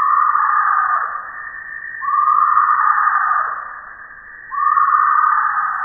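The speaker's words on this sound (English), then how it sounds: "This is the call of the tree hyrax," Tree hyrax calling at night in the equatorial forests of central Africa: a series of loud, raspy rising shrieks, each swelling and holding before a brief dip, repeating about three times with no other sound around them.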